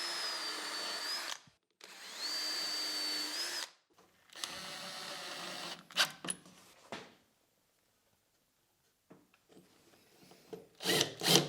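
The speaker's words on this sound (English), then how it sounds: "Now I will just butt joint and screw them together with a bunch of screws" A power drill drives screws into wooden butt joints of a router table fence, with several loud whirring bursts that stop and start, then a few short clicks and knocks before a final burst.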